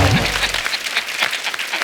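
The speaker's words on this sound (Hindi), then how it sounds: "तालियां मार दो इसमें।" A studio audience at a Hindi comedy show breaks into applause, a short dense burst of clapping that follows a brief low sound at the start.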